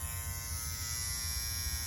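A TPOB Mini Skull slime electric shaver runs with a steady, close, even buzz, holding a constant drone without pauses.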